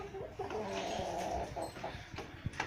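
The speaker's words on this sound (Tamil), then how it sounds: "கோழி." Kadaknath chickens in a cage cluck close by, a busy run of short clucks and calls with light rustling underneath.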